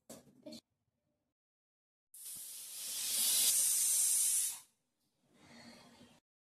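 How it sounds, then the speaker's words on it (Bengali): Steam hisses from a pressure cooker cooking mutton curry, a rising sharp jet of vapor that swells for a couple of seconds, cuts off, then returns softer after a short pause. "তারপর ঢাকনাটা লাগাই 3 থেকে 4টে সিটি মেরে নেব।"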